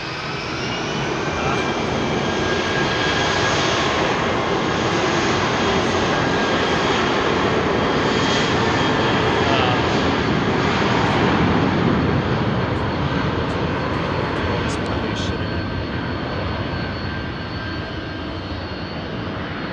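An Airbus A320 jet departs London Heathrow with a sustained, powerful engine roar and a high whine that build and hold over twenty seconds before easing slightly at the end.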